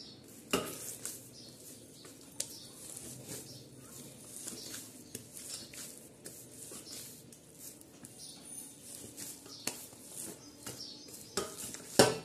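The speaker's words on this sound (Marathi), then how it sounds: "तेल टाकून पुन्हा हा गोळा आहे ना पूर्ण असा मळून घ्यायचा आहे" A ball of dough is kneaded with oil by hand, giving soft, faint squishing and rubbing with a few sharper taps and knocks against a surface.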